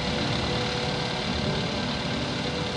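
A car engine in the video game Evil Nun rumbles steadily as the vehicle drives off, an even mid-level drone without pauses and no talk over it.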